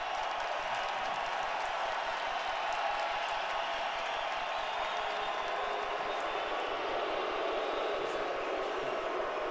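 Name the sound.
baseball crowd booing at Wrigley Field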